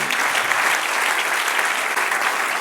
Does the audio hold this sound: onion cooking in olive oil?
no